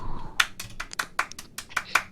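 One person claps sparsely and unevenly in imitation of lone distant applause, about eight sharp single claps over two seconds, dry and close with quiet gaps between them.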